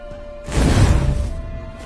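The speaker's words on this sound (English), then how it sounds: "Rains like this come summertime." Rainstorm in The Witcher 3: Wild Hunt, played on New Game Plus Death March difficulty, with a loud broadband rumbling swell like thunder or a gust of heavy rain that rises sharply, holds about a second, then eases back into a steady wash.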